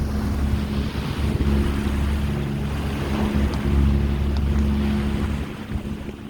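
A sailboat motors across a flat, calm ocean with no wind, its steady low engine drone and hum running continuously alongside soft water wash and light wind noise, close and unbroken throughout.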